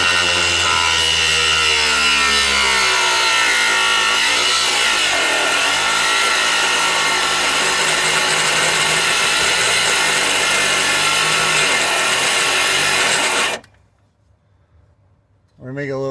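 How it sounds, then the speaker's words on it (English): An angle grinder bites into a rubber bump stop on a 2005 Chrysler Town and Country, a loud continuous whine and rasp that runs steadily for about thirteen seconds, then cuts off abruptly into near silence before starting up again. "we're going to start off with the grinder."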